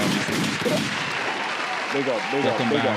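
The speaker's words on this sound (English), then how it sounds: "And some gunshots, obviously." A dense burst of rapid gunshot sound effects crackles loudly and continuously, layered over a voice that speaks briefly toward the end.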